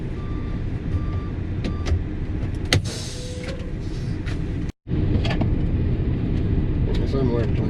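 A truck rolls along at a steady, close, rumbling drone with occasional creaks and rattles, a short dropout midway, and someone talking over the engine noise.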